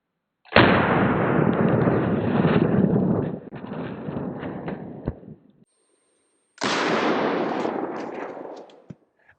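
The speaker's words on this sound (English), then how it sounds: "load up is some 125 grain Federal 357 Magnum coming out of my 686 here" Shots from a Smith & Wesson 686 revolver firing 125 grain Federal .357 Magnum rounds at lightweight Level IIIA body armor outdoors, each blast followed by a long rumbling echo and gusty wind noise on the microphone.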